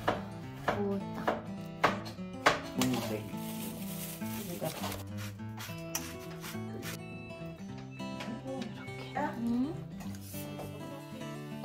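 A knife cuts through food in a run of quick, crisp taps on a board, close by, with a voice talking over the slicing.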